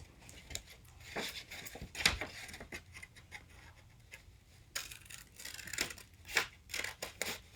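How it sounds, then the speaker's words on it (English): Scissors snip through folded origami paper in a quiet room, a series of faint, close, irregular cuts and crisp paper rustles with short pauses between them. "Then take out your scissors."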